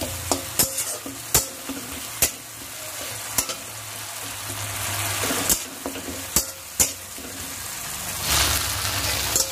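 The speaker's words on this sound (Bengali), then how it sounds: "তো দিয়ে আমি আর একটুখানি নেড়ে চেড়ে নেবো।" Ginger stirred into a sizzling tomato fish curry, with a steady frying hiss and sharp, irregular clacks of a spoon scraping the pan, close and clear with no talking.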